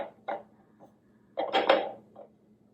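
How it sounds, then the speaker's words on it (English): A spoon scrapes and clinks against a bowl while garlic is stirred into an Italian bread dip, a few soft taps and then a longer scraping stir, close and quiet. "I'm going to mix it together one more time because of the garlic"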